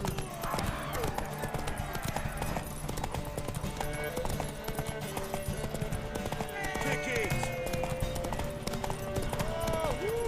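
Rhythmic galloping horse hoofbeats from the video game The Witcher 3: Wild Hunt clop steadily beneath energetic shouted talk, with music and scattered game effects layered throughout.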